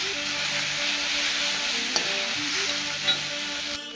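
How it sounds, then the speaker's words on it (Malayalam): Onions sautéing in a pan for a Kerala clam roast: a steady, close sizzle with a couple of faint utensil clicks, then an abrupt cut at the end. "അപ്പോൾ നമ്മുടെ സവാളയൊക്കെ നല്ലോണം മൂത്തിട്ടുണ്ട്."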